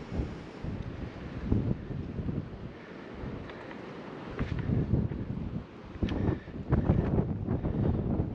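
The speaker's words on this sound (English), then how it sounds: "Windy." Wind gusting across the microphone on a muddy mountain trail near Pickens Nose along the Beech Gap Trail, a steady low roar with stronger buffeting bursts swelling throughout, no voices.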